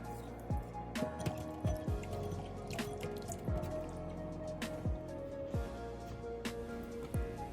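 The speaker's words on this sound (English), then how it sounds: "I'm gonna cut a lemon in half and squeeze a little bit of its juice to leave it in my shrimp." Lemon juice squeezed from a halved lemon drips onto raw shrimp, giving soft, scattered drips and small wet squishes over a steady low kitchen hum, quiet and close.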